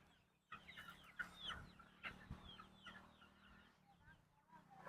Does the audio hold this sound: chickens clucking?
yes